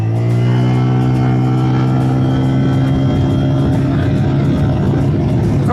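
A VLF Mobster 135 scooter engine accelerating hard through its mid-range, a loud, close, steady drone whose pitch climbs smoothly for several seconds with no speech over it.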